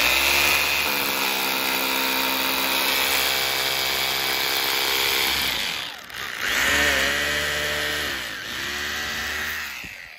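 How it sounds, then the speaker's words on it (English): A hammer drill bores a hole into concrete, a loud, steady grinding whine that runs continuously, drops out briefly, then resumes in two more bursts. "So you have to drill a hole. Let's just drill one."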